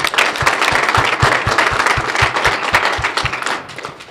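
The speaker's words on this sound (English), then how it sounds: "let's give them a round of applause" A workshop audience gives a sustained round of applause for the audiovisual staff, dense and steady clapping close by that tapers off at the end.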